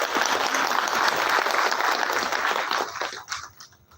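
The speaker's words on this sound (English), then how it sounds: "So I would say a big applause to these students who have organized." Loud, dense applause from an audience honoring students at a Patriots' Day observance, clapping strongly for several seconds before tapering off quickly at the end.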